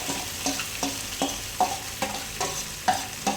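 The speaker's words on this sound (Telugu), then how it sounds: "ఇప్పుడైతే మ్యాగ్నేట్ చేసి పెట్టుకున్న చికెన్ వేసేస్తున్నాం." Marinated chicken fries with browned onions in a pan for Hyderabadi-style green chicken, sizzling steadily under about eight evenly spaced scraping strokes of a spatula, close and moderately loud.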